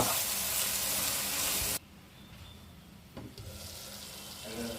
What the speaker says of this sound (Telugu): ఇలా ఆయిల్ మరిగిన తర్వాత ఒక 2 ఉల్లిపాయలు, కట్ చేసిన పెద్ద ఉల్లిపాయలు దీంట్లో ముక్కలు వేసుకోవాలి.